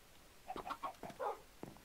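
A chicken in the video game Minecraft clucks quietly, a few short soft clucks in quick succession against a low background.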